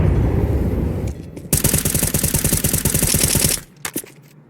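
Rapid automatic rifle fire, from Galils and an AK in a Counter-Strike 2 match on Overpass, rattles loud and close in a dense two-second burst, then drops to a few scattered shots and quiet.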